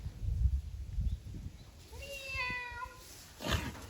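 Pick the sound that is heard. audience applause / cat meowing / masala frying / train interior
cat meowing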